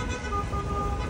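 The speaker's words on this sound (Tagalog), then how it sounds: "Traffic." Road traffic in heavy rain in Kuwait, a steady low rumble of engines and tyres with a sustained horn-like tone running through, continuous and close.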